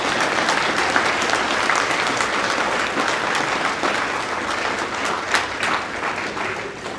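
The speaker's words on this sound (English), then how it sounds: "Give them a big round of applause" An awards-ceremony audience applauds the Culpeper Town Police Department, a steady, fairly loud roar of many hands clapping that carries evenly for several seconds, with scattered louder claps on top.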